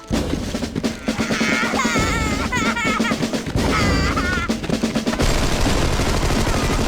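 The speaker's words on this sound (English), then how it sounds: "save some innocents from the gunfire ringing out" Rapid bursts of gunfire crackle continuously over a loud, busy soundscape in the video game Armed & Dangerous, with shouted voices and chaotic effects throughout.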